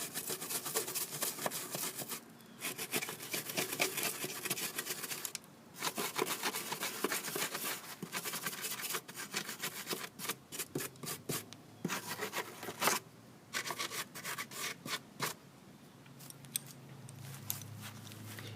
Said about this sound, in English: We have some debris, so I got a brush. I'm just going to expose the 10mm bolts